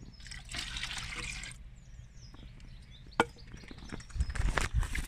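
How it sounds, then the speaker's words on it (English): Water trickles and splashes into a jug, a soft pouring hiss followed by a brief clunk and louder gurgling near the end. "So you just want to literally fill it up with water."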